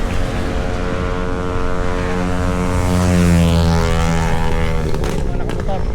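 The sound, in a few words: motorcycle engine passing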